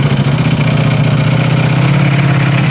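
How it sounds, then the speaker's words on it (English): A Ducati Panigale V4R sport motorcycle engine with stock exhaust idles loudly and steadily up close, with a deep, even exhaust rumble and no voices. "That is oppressively loud for stock exhaust."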